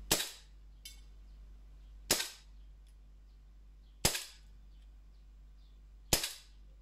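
A Sig Sauer P226 E2 gas airsoft pistol fires four sharp, close shots spaced about two seconds apart, each a crisp crack with a brief decaying tail, plus one faint extra pop, over a quiet background hum.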